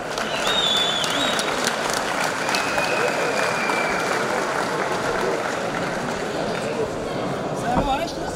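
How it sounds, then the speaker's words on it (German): Loud, sustained audience applause fills the whole stretch at an evening special event, dense steady clapping from a large crowd with a few whistle-like tones riding on top. "Herzlichen Applaus, meine Damen und Herren."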